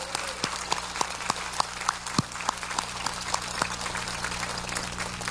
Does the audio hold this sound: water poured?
no